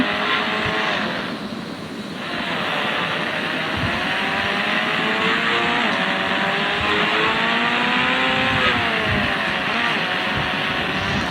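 Motorbike racing at full speed in the Indian Bikes 3D video game: a continuous engine drone whose pitch rises and falls with gear shifts and acceleration, with brief tire-like scrapes and no speech.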